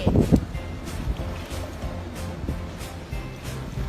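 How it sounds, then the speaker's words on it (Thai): A cloth is dipped and rubbed by hand in water during hand laundry, with soft sloshing and wet scrubbing, a splashy burst at the start, then gentle continuous swishing nearby. "นำผ้าที่เราจะมาซักนะคะ จุ่ม แล้วก็ขยี้ขยี้"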